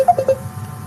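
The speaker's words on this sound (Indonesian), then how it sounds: "Telepon siapa tuh bunyi?" A mobile phone gives a few short electronic beeps, two or three quick tones close by over a low hum of room noise in an indoor gathering.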